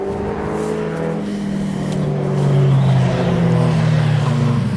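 Motorbikes drone past on a country road near Loch Tay, Scotland, one rising louder as it nears then falling away as another follows, revving and fading.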